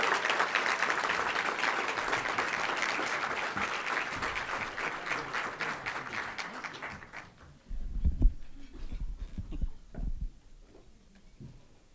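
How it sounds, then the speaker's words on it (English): Guests at a veteran appreciation dinner give a warm round of applause for a retired Air Force master sergeant; dense clapping for about seven seconds, then it fades into scattered claps and a few louder knocks. "please put your hands together with a warm and needed round of applause for Eldana Lewis Fernandez"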